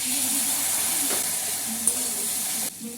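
Steady sizzle and hiss as a little pasta water hits turmeric, Kashmiri chilli and coriander powder in a hot pan, loud and continuous, then dropping abruptly near the end.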